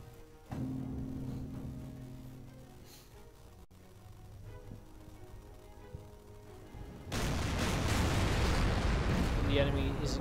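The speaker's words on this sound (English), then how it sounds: "The enemy is engaging, is using its battleships to engage me from a very long distance, doing some damage." Battleship guns firing from long range in the naval strategy game Order of Battle: Pacific: low tonal rumbling, then a loud roaring blast near the end that swells into a sustained heavy rumble.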